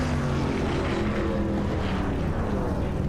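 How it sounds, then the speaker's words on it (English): Race trucks rev their engines at Indianapolis Motor Speedway before the green flag, a dense continuous engine roar with a steady droning rumble and no pauses. "revving their engines, ready to go green at Indianapolis Motor Speedway"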